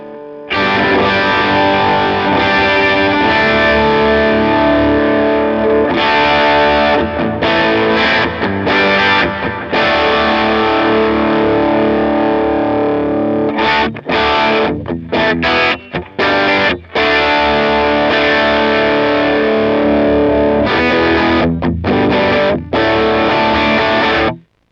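Electric guitar played through a NUX Trident multi-effects pedal on its VHC preset with an adjusted EQ, giving a loud, heavily distorted, continuous riff with brief rhythmic stops, no talking.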